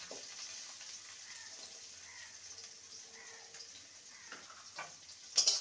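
Chopped garlic and onion frying in refined oil in a pan for spicy okra, a soft steady sizzle with light crackles and a few sharper clinks near the end, faint and without talk.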